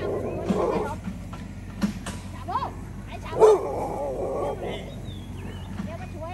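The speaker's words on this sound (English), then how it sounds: "Got Shabu there, Bung Bung there, other dog there. Trouble brewing" Several dogs on a mountain durian farm in southern Thailand give scattered barks, yips and whimpers at moderate distance, under and between people talking, with a steady low hum running beneath.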